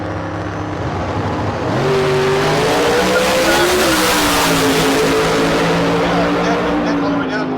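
A Camaro on a drag strip at a street car event in Las Vegas roars down the track with a loud, sustained engine note that climbs in pitch, while an announcer talks over it.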